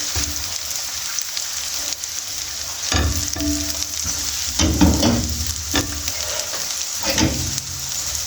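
Garlic sizzling in hot oil in a pan for cheesy macaroni, a steady close frying hiss with stirring scrapes and clatters breaking through now and then.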